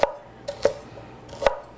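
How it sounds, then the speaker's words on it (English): A knife roughly chops rhubarb into chunks, making four sharp, irregularly spaced thuds that ring out clearly with no talking. "I'm cutting it into just rough chopping it."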